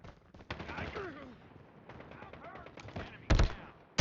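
Gunfire in a Call of Duty Mobile team deathmatch, bursts of rapid automatic fire and sharp shots with a loud close blast near the end, mixed with game voice callouts and faint quacking sounds.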